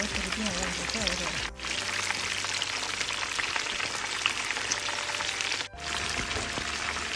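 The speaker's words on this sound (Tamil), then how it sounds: "மிதமான அனலில் வச்சு வறுத்தா உள்ள வரைக்கும் கறி நல்லா வேகும்" Chicken 65 pieces fry in hot oil, giving a dense, steady sizzle and crackle with brief dips, while a voice talks over it.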